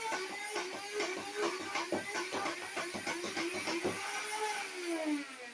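The flywheels of a Dart Zone Primus foam blaster spool up with a rising whine and rapid mechanical clicking. They settle into a steady high hum, sounding close and moderately loud with no talk.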